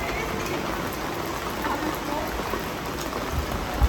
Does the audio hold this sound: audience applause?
no